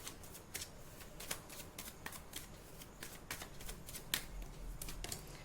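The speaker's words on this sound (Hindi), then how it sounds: "मैं कुछ कार्ड्स और निकाल लेती हूँ।" Tarot cards drawn and handled from a deck, giving a steady run of soft papery rustles and crisp flicks at close range, with no talking.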